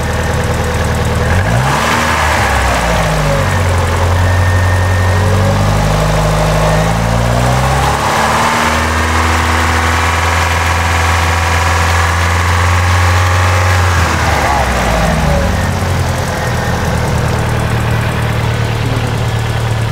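A car engine idles steadily and loudly up close, its low rumble continuous, with a few slight rises and dips in pitch and no talking over it.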